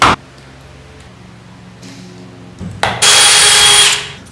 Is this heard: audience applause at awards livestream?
no